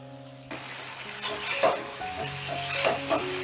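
Cornflour slurry stirred into a sizzling pan of suji laddu chaat, a loud burst of sizzling followed by repeated scraping stirs over steady frying, no voices.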